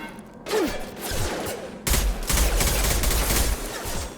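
Rapid bursts of gunfire erupt in combat in Mass Effect 2 Legendary Edition, with dense volleys of shots alongside whooshing weapon effects and a brief quiet gap before heavier firing resumes.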